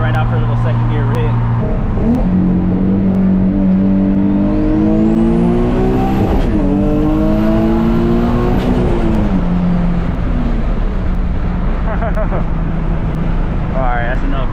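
Turbocharged Nissan 350Z making around 800 wheel horsepower pulls hard in second gear, its engine note climbing steeply and loud close up before easing off, with a turbo whistle rising above it and people talking over the run.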